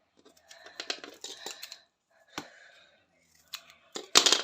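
Scissors snip open a sticker pack in a few short bursts of close cutting and crinkling, with brief pauses between bursts and a louder final flurry at the end.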